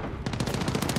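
Rapid automatic gunfire in Call of Duty: Modern Warfare rattles out in a quick, evenly spaced burst of about a dozen close, loud shots with no talking.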